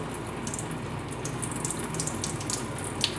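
Hot water poured out through small holes poked in an instant ramen cup, a steady close trickling and splashing that runs throughout without a break.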